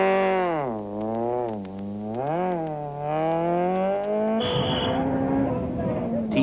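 Four-wheel drive Golf Synchro rally car on a special stage, its engine revving loudly and rising and falling in pitch through gear changes before a burst of gravel-spraying, rougher noise.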